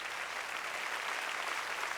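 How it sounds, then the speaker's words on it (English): Recorded applause in the Wonders of Life pavilion exhibit, a brief, steady wash of crowd clapping at moderate level with no break. "I'd like to give you a nice round of applause"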